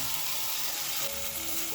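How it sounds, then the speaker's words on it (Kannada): Ground masala paste sizzles in a hot pan over a low flame, a steady, close crackling fry that continues without a break and has no talk over it. "ಲೋ ಫ್ಲೇಮಲ್ಲಿ ಇಟ್ಕೊಂಡು ಇವಾಗ ನಾವು ರುಬ್ಕೊಂಡು ಬಂದಿರೋ ಅಂಥ ಮಸಾಲೆನ ಇದ್ರ ಒಳಗಡೆ ಹಾಕ್ಕೊಳ್ಳೋಣ"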